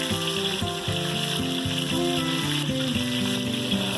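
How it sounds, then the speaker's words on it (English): Ground pork and garlic sizzle steadily in a hot wok, a loud, continuous crackling hiss that holds for a few seconds, with a low rumble of the burner beneath and no talk. "I just love that sizzle, man."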